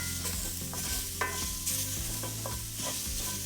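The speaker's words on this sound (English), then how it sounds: "I'll cook these shallots just a bit." Shallots and smashed garlic sizzle in a pan, a continuous close frying hiss broken by occasional stirring scrapes, with no voices.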